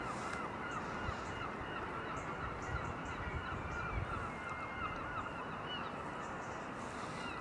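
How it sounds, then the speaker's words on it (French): Seagulls honk and cry at the harbour in Concarneau, Brittany, their calls rising faintly and intermittently over a steady, dense wash of outdoor ambient noise. "savoir si on entend les mouettes sur la vidéo"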